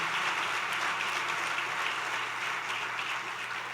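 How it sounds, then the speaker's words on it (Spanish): Church congregation applauding during a pastor's sermon, a steady wash of clapping at moderate distance that slowly thins toward the end. "Creo que el Señor se merece un fuerte aplauso por todas esas promesas que nos está dando."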